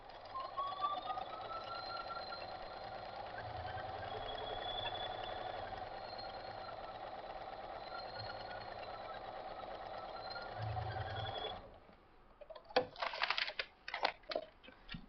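A sewing machine running at a short stitch length stitches straight seams for a king size quilt border in a steady, continuous whir that lasts about eleven seconds, then stops and gives way to a few sharp handling clicks.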